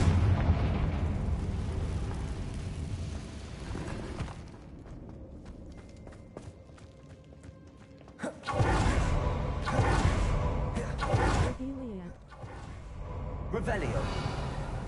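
Confringo fire spell in Hogwarts Legacy bursting into a sudden whooshing explosion after a quieter stretch, followed by further rumbling blasts and crackle, with a spoken game voice in between.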